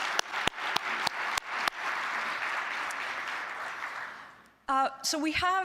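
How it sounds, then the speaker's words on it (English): A conference audience in Montreal applauds: a few sharp early claps swell into sustained clapping, which fades out before a voice begins speaking at the end. "I think we should give them a round of applause for all the hard work."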